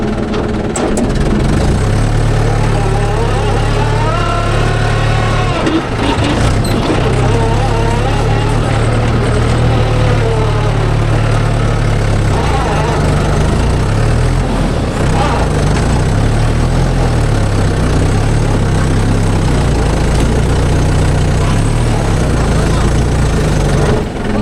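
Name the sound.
JCB 3DX backhoe engine running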